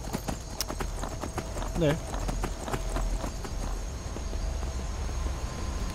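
Steady clip-clopping horse hooves in the video game Skyrim trot along at an even pace while a person talks over them in German and briefly imitates a horse's whinny.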